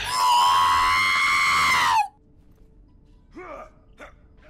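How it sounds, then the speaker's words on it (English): A loud, sustained scream comes through online voice chat during a competitive Overwatch match, holding for about two seconds before cutting off abruptly, followed by faint brief vocal sounds. "What was that scream, man?"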